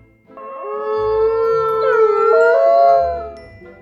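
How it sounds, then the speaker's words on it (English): Wolves howling in a long, rising and wavering chorus of overlapping voices, sustained for several seconds, loud and close with no talk. "The sound of wolves"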